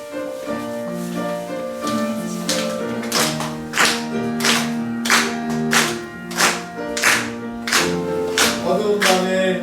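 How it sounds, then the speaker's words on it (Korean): A church congregation claps firmly and steadily in time with a sung hymn during a Sunday service. The loud, regular claps ring out over the music throughout. "힘있게 박수치면서 이 찬양 같이 하겠습니다"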